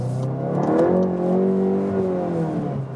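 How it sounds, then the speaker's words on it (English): A deep, throaty exhaust from a Volkswagen Golf 8 GTI Clubsport drones and swells as the engine accelerates, steady and close for a few seconds. "But we already have good exhaust note."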